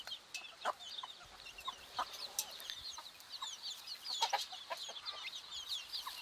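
Chickens and a rooster cluck and chatter in short, scattered bursts, fairly close, with soft rustling in the background and no talking.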